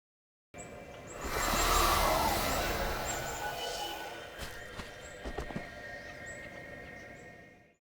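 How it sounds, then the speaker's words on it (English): Footsteps of a character walking on grass in the Unity 2D Game Kit, a soft scuffing patter over a noisy bed that runs for most of the clip, with a few sharper steps near the end. "I recorded Ellen's footsteps for different surfaces: grass, stone, and earth"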